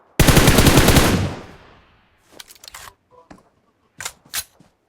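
Gunfire in the video game PUBG: a loud sustained burst of automatic fire opens, then fades into quieter scattered shots and clicks spaced out afterward.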